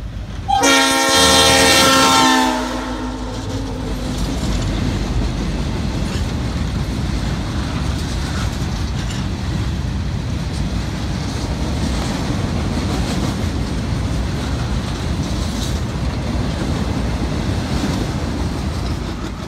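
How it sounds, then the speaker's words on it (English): A Chicago South Shore freight train bound for Michigan City's Carroll Avenue yard sounds a loud horn blast, then rumbles past steadily below an overpass with a continuous roar of wheels and cars that holds to the end. "we shot the train from above as it speedily continued its journey towards Michigan City's Carroll"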